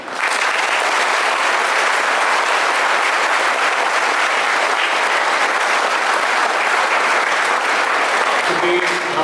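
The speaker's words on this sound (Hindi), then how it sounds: "हम चाहेंगे आप सबों के लिए जोरदार ताली" A school audience at an anti-drug awareness event claps loudly and continuously, a dense wash of applause lasting over nine seconds.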